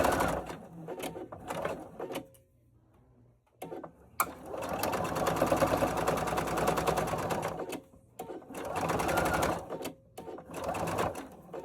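A sewing machine runs in close, loud bursts while stitching a hanging towel, with a steady motor whir and rapid needle clatter, separated by short pauses.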